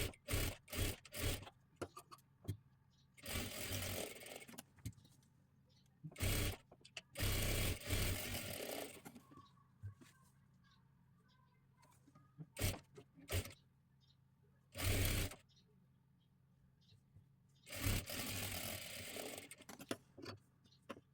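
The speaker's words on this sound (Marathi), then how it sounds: "पट्टी आतल्या बाजूला घडी करून व्यवस्थित शिलाई देऊन घ्यायची आहे" Sewing machine stitching the folded waist strip of a size 38 princess blouse, running in several separate bursts of steady whirring with quiet pauses of handling between them.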